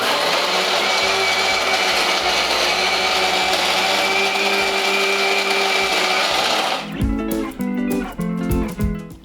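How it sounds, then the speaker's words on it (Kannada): A mixer grinder whirs loudly and steadily while blending obbattu payasa, then switches off into a rattling, clattering wind-down with a few sputtering pulses. "ಇವಾಗೇನು ಮಿಕ್ಸಿಗೆ ಹಾಕ್ಬಿಡೋದು ಅಷ್ಟೇ"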